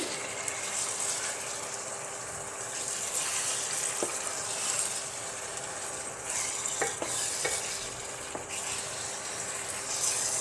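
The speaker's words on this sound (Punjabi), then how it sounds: "ਤੇ ਹੁਣ ਆਪਾਂ ਇਹਦੇ ਵਿੱਚ ਆਲੂ ਪਾ ਦੇਵਾਂਗੇ ਆਲੂਆਂ ਨੂੰ 2-3 ਮਿੰਟ ਵਾਸਤੇ ਭੁੰਨ ਲਵਾਂਗੇ ਵਿੱਚ ਮਸਾਲੇ ਦੇ ਵਿੱਚ" Potatoes roasting in spice masala in a hot pan for an aloo pakora sabzi, a steady low sizzle and frying hiss throughout with a few faint clicks of stirring, quiet and close, no talking.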